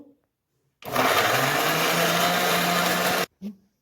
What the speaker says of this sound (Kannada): ಈಗ ಹಲಸಿನಕಾಯಿ ಸೊಳೆಯನ್ನು ನುಣ್ಣಗೆ ರುಬ್ಬಿಕೊಳ್ಬೇಕು